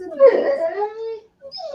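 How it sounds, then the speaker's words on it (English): A neighbour's dog whimpers excitedly in a yard, a couple of short high whining cries close by, with a brief gap between them. "the dog sounded really excited"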